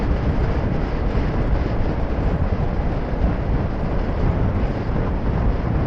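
Steady, loud wind buffeting a microphone while riding a BMW motorcycle on the road in February, a continuous low roar with no pauses and no talk.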